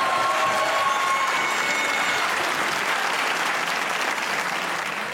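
A studio audience on a comedy talk show gives dense, sustained clapping for a guest actress, close and even in loudness across the whole stretch, with only faint voices beneath.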